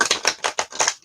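A tarot deck gets reshuffled close up: about five quick, crisp riffling bursts across roughly one second, each a short papery flutter, with no talk.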